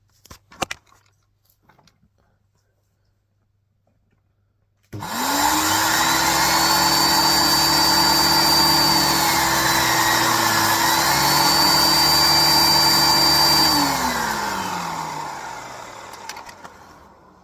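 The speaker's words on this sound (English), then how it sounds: "I'm going to show you how fast the turbo brush spins" A cream and brown Numatic Henry vacuum cleaner's turbo brush spins up sharply after a few quiet seconds. It whirs at a loud, steady high pitch with a slight dip in the middle, then winds down.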